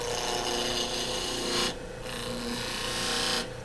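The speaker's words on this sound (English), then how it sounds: "all I'm going to do first is make some slicing cuts. I could use a bigger skew for this if I wanted to." Skew chisel slicing into a wood spindle turning on a lathe: a close, continuous rasping scrape over a low hum, with a brief lull midway and again near the end.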